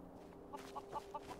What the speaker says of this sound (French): ça c'est une poule